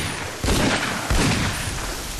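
Gunfire in a film trailer for Kirot: two heavy, booming shots about half a second apart, each followed by a broad noisy burst, with no speech.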